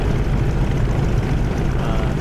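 A Grumman F6F Hellcat piston engine idles as it warms up in a flight simulator, giving a steady, loud, low rumble with no break throughout.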